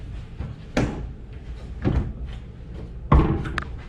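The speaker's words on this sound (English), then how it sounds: "Then we've got the closet." Hotel room closet door in a Las Vegas studio king room being opened, a few close knocks and a sliding thud with a louder bump at the end, set against quiet room noise.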